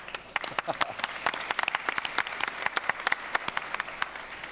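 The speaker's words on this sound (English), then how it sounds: "applause" After a consumer health panel at a startup conference, the audience breaks into applause, a fairly close, brisk rattle of many hands with sharp individual claps standing out, lasting a few seconds.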